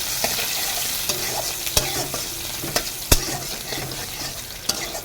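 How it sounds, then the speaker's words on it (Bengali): Chopped onions and black cumin fry in hot fish oil, a dense, continuous sizzle close by, dotted with a few sharp spatula taps and scrapes against the pan, and no voices. "গরম তেলে আমি পেঁয়াজ কুচি ফেলে দিলাম দিয়ে দিলাম কালো জিরে ওই মাছের তেলেই আমি এগুলো ভেজে নেবো"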